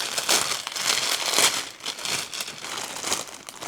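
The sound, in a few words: rustling and crinkling packaging while unpacking a kit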